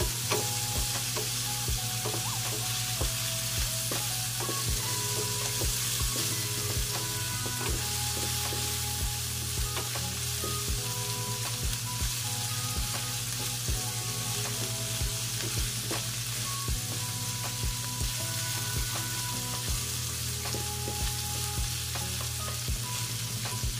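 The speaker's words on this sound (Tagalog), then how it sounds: "Kailangan maluto muna yung ating chicken at saka yung liver natin." Chicken and chicken liver frying in a pan, giving a steady, dense sizzle and crackle that carries on evenly for a long stretch, with occasional faint stirring.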